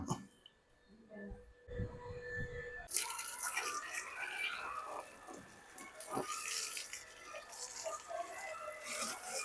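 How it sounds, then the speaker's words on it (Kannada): A motor pump sprays water to wash a vehicle, starting quietly with a few drips and then becoming a steady, loud, hissing spray that runs for most of the clip. "ಆಲ್ಮೋಸ್ಟ್ ಒಂದು ರೌಂಡ್ ನೀರು ಹೊಡೆದಾಯ್ತು ರೀ."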